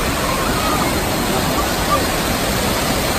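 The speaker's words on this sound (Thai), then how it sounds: "นี่ก็เป็นเสียงของน้ำตกนะครับความแรงนะครับของน้ำตกที่เราเห็นนะครับ" Dense, steady roar of Thi Lo Su waterfall in Umphang, Tak, Thailand, loud and close, with unbroken rushing water and no voices.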